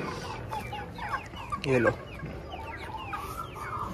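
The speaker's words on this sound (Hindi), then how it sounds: "ये दूसरा मुर्गा है हमारा।" Chickens and a rooster on a farm with goats, clucking in short, scattered calls, with one louder squawk near the middle, fairly close, while someone speaks briefly.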